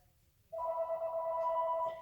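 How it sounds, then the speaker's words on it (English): Mobile phone ringing indoors, a sustained electronic ring tone that starts abruptly after a brief quiet moment and holds steadily to the end, clear and fairly close. "My phone is ringing."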